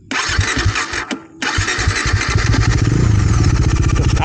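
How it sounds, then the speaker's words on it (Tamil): Bajaj Dominar 400 motorcycle starting up close, a brief crank and catch, a short pause, then a second start settling into a loud, rapid, throbbing exhaust idle. "ஸோ நெக்ஸ்ட் வந்து பார்த்திங்கன்னா எக்ஸாஸ்ட் சவுண்டுக்கு வருவோம்."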